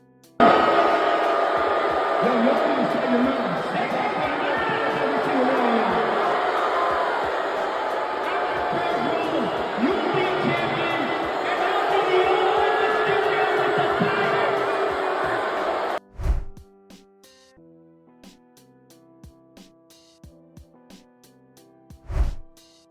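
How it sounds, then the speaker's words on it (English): Arena crowd at a Raw wrestling event loudly booing Dominik Mysterio and Logan Paul, a dense roaring wall of jeers sustained for about sixteen seconds before cutting off, followed by a few sharp thuds and quiet. "Dominik, Mysterio, and Logan Paul can be heard getting booed heavily by fans in attendance on Raw"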